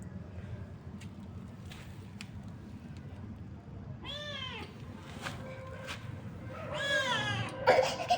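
Several cat meows, rising and falling, sound close by over steady low background noise. A louder, more insistent meow or caterwaul comes near the end.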